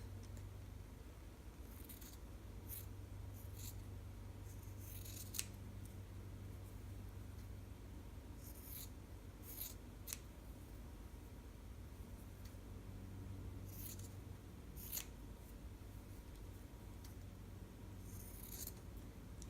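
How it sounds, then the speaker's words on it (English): Scissors trimming the seam allowance on a sewn fabric seam give a faint, quiet crisp snipping, several separate cuts spread irregularly over a low steady background hum. "now I'm going to trim all this off"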